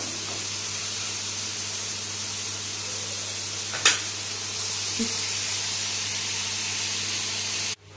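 Onions cooking in a pan with salt, browning for a chicken gravy, give a steady close hiss under a low hum, with a brief clatter near the middle and an abrupt stop at the end.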